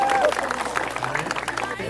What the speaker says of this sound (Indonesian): Oke, boleh tepuk tangan semua teman-teman.